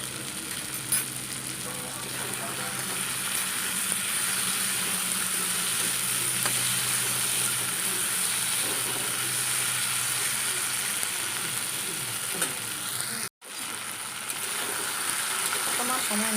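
Taro stolon and kawoi fish fry in a pan with a steady close sizzle throughout, a brief dropout near the end, and faint stirring underneath.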